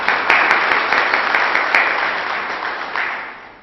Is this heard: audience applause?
yes